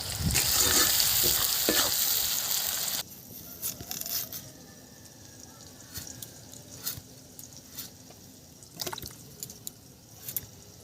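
Onions sizzling in a pan with a little salt alongside black and white cumin in a home kitchen, a loud broadband fry for the first few seconds, then a quieter sizzle with intermittent stirring clicks and scrapes, no talk.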